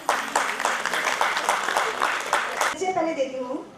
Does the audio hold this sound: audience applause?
yes